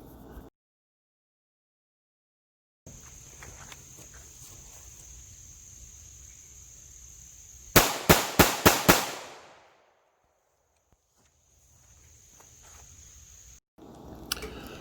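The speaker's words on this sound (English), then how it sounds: "now we're going to get about 5 yards and do some rapid fire" Five rapid 9mm shots from a Smith & Wesson M&P 2.0 EZ pistol at a shooting range, loud sharp cracks in quick succession with a ringing tail, after a quiet stretch with a steady high tone.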